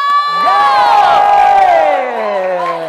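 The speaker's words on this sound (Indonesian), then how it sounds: "saya minta tepuk tangan dan teriakannya yang meriah dulu ya" A school crowd at an Islamic quiz competition whoops and cheers loudly and continuously, with bright, rising and falling shouts that swell and hold for nearly three seconds before easing slightly.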